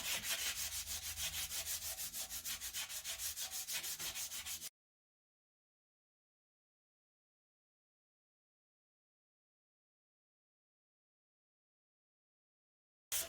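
Rhythmic hand sanding by hand on a cast iron McCormick Deering type M engine part, quick regular rubbing strokes for about five seconds, close and steady, then silence.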